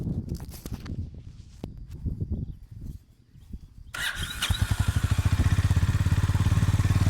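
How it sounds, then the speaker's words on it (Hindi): A Honda CB350RS motorcycle is started after a few nearby footsteps and clatters. The single-cylinder engine catches abruptly and settles into a loud, steady, thumping idle exhaust note recorded up close. "एक बार CB350 RS का सबसे पहले एग्जॉस्ट नोट सुनते हैं।"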